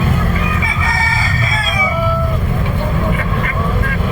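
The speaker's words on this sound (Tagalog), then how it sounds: "napakadaming manok dito ngayon" Many native chickens cluck and a rooster crows nearby amid a noisy, crowded outdoor market din, with people talking in the background.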